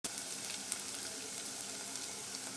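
Onions and green chillies frying for a stuffed brinjal curry base, a steady loud sizzle of oil in the pan, continuous and close throughout with no voices.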